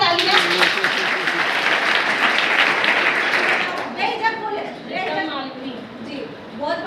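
An audience at a talk in India gives loud, dense applause that lasts about four seconds and then cuts off, after which people talk close by.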